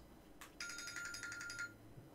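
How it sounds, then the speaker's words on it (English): A mobile phone ringtone sounds alone: one brief tone, then a steady, rapidly pulsing electronic ring lasting about a second before it cuts off. "let me turn my phone off here"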